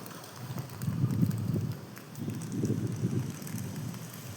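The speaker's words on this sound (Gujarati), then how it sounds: "પવન એટલો આવે ને બીક બહુ જબરજસ્ત લાગે છે" Strong wind buffets the microphone in low, rumbling gusts that swell and ease twice, with no voices present.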